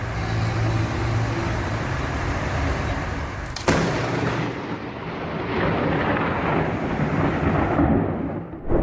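Lightning strikes a lamppost near a gas station in a Brazilian city, a sudden sharp crack followed by a long rolling rumble of thunder over steady traffic noise.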